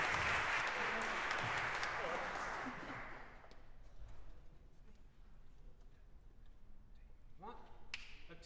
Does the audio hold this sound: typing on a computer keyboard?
no